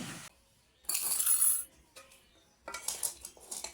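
Bowls and forks clink together in a village home kitchen as pasta is served, a few short bright bursts of metal and ceramic contact separated by quiet pauses, close and fairly soft, no talking.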